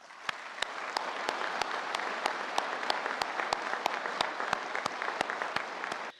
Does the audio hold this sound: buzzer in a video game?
no